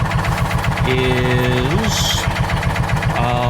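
A John Deere Gator 4x2 engine idles steadily and loudly close by during a governor screw adjustment, with a fault of hard starting and rough idle, while someone talks over the running engine.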